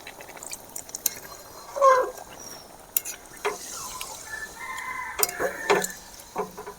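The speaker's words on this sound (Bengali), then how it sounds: "আগের থেকে জলটা গরম করে নিয়েছিলাম, সেই গরম জল দিচ্ছি।" Hot water goes into a pan of frying mutton and potatoes, bringing a bubbling hiss along with scattered clinks and a brief splash, heard close up with no talking.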